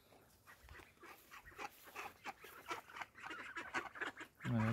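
Recently vaccinated farm ducks quack and chatter in a busy, irregular flurry close by, with several calls overlapping, rising to a louder burst of sound at the end.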